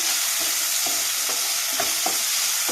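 Snakehead fish and salt sizzle steadily in a frying pan, with a spatula scraping through them in regular strokes roughly every half second, close and fairly loud.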